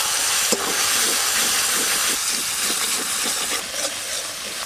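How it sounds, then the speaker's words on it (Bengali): Dried chili paste and chopped tomato sizzling and hissing in hot oil with spices, a steady close-up fry with soft stirring scrapes, no one talking. "এবার আমি শুকনো লঙ্কা বাটা আর টমেটো কুচি দেবো।"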